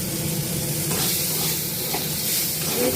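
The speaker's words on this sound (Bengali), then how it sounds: "এইবারে এই তেলের মধ্যে দিয়ে দেব সামান্য পেঁয়াজ" Onion dropped into hot oil left from frying potatoes, giving a loud, dense, continuous sizzle with steady hiss close by.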